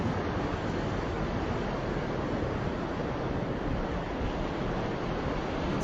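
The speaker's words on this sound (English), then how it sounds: "Yeah, you might actually hear the waves right now." Virtual backdrop ambience of ocean waves on a beach: a steady, unbroken rushing wash of surf, fairly loud and constant, with no voices.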